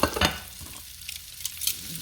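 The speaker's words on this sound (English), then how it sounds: "I'm going to caramelize some onions down in that" Onions sizzle over low heat in garlic-infused butter and oil in a pan, a soft, close frying hiss broken by a few stirring scrapes, with no voices.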